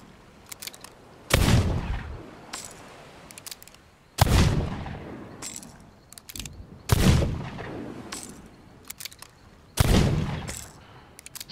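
Four loud, separate gunshots from a gun in the pirate game Sea of Thieves, each a sharp booming blast followed by a short decaying rumble, spaced roughly three seconds apart, with no talking.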